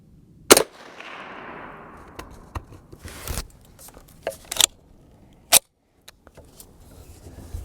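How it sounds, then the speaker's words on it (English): Sharp report from a Savage A22 Magnum rimfire rifle with untested ammunition, followed by a few fainter clicks and sharp action sounds, then another distinct crack, with quiet gaps between. "I've never shot this ammo out of this rifle, so we're going to find out together."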